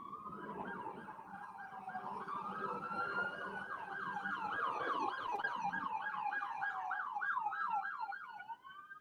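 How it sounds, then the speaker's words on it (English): Wailing emergency sirens rise and fall continuously, with a second yelping siren layered in, heard from a distance over faint traffic during a wildfire in the Hollywood Hills, California. "But we do hear sirens in the background of this video"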